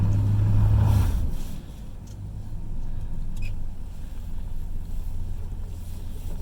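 A recovery vehicle's engine roars hard for a second, then settles into a steady rumble with wind noise as it tugs a stuck car free on a kinetic recovery rope in deep snow during a snowstorm.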